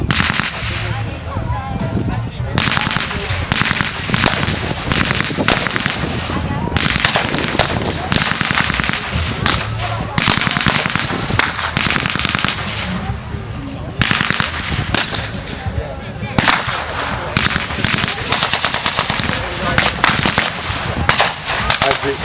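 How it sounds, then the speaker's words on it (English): A heavy .30 caliber machine gun fires in long rapid bursts, with scattered rifle shots, at an outdoor WWII battle reenactment of Americans against Germans in an arena. An announcer talks over the loud, sustained gunfire. "the Americans have managed to bring up a heavy machine gun, a 30 caliber, to keep the heads down of the Germans"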